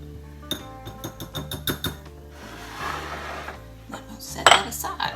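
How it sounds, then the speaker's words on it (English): Salt and ground cinnamon stirred together in a small bowl, a quick run of close spoon-on-bowl clinks and taps followed by softer scraping and a sharper clatter near the end. "I'm just going to mix it in this little bowl."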